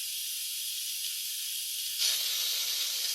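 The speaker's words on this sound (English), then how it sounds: "I'm going to go ahead and release it to vent, and you can see the steam." Steam hissing steadily out of an Instant Pot's vent during pressure release while pasta cooks, a loud continuous close hiss that grows brighter and stronger partway through, with no talking.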